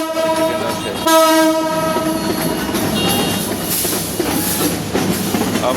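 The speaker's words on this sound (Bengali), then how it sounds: "দেখা যায় দুইটি ট্রেন পরস্পরকে ক্রস করছে" Two trains cross each other on the tracks. A loud horn blares at the start over a heavy, continuous rumble of passing cars and wheel noise that fills the whole stretch.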